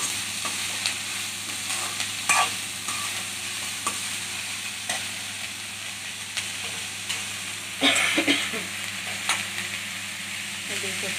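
Banana kofta pakoras frying in oil, a continuous close sizzle with occasional stirring clinks and scrapes, no talk.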